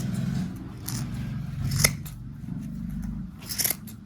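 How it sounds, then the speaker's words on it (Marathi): Scissors cutting through a knitted sweater, several crisp snips spaced through the stretch over a low background hum, close and moderately quiet, with no speech. "हे पहा आपल्या आता कटिंग करायची चालू आहे. आपल्याला हे स्वेटर कापून घ्यायचं आहे पहिल्यांदा."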